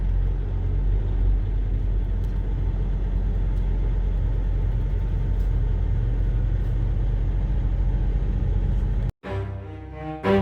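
A tractor-trailer truck drives steadily along the road, its engine and tire rumble a low continuous drone heard from inside the cab, cut by a brief dropout near the end.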